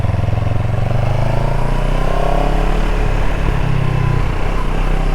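A CFMOTO CLX 700 motorcycle engine pulls steadily through low-speed park turns, loud and close, its pitch easing down and rising again as the rider rolls on and off the throttle.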